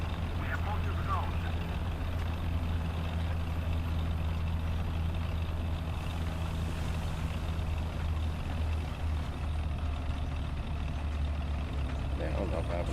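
Tank engine in War Thunder labouring steadily up a slope, a continuous low heavy drone with a harmonic hum that holds throughout at even loudness, with no pauses.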